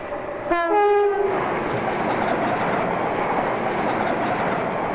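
A train horn blares loudly in a long, held tone, then fades while heavy rumbling of a passing train continues steadily throughout.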